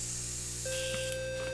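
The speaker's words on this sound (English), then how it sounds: "This is where filtering with your airbrush can get fun," An airbrush sprays a filter coat of paint over a white base, a steady close hiss running throughout, with a thin whistling tone joining partway and no talking.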